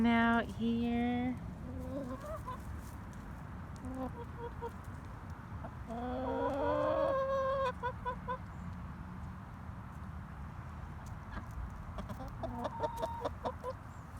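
Real chickens clucking outdoors, a series of close, loud clucks and squawks at the start, then more calls in the middle and near the end, with a person talking softly between them.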